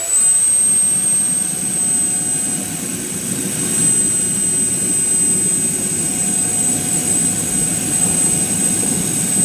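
A homemade greens-washing bubbler runs steadily, churning water and air to stir leafy greens and rinse off dirt, a constant rushing drone with a faint high whine above it, close and unbroken without talk.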